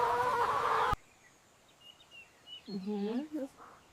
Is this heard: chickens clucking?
yes